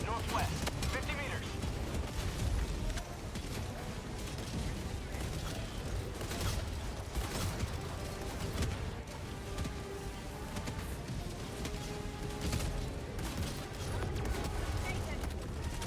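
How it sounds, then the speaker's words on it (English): Sustained mortar sentry fire against bots in the video game Helldivers 2, a dense rumble of repeated booms and blasts rolling on throughout, with voice chatter over it. "Mortar spam on Eradicates is always so nice"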